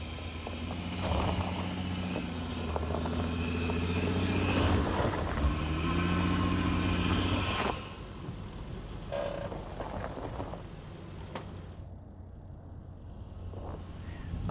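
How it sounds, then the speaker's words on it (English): A 2012 Honda Pilot with VTM-4 strains at full throttle on a steep hill with its wheels spinning. A loud, steady engine roar holds for several seconds, then drops off sharply to a quieter idle with some faint knocks. "I am full throttle through all of this. It just can't overcome the steepness of the hill and the braking force on the spinning wheels."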